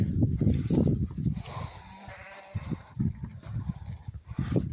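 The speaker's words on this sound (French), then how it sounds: "Regardez les jolis moutons." Sheep on a walk through the Lajo peat bogs bleat in short, close, repeated calls amid outdoor rustle and faint movement noise.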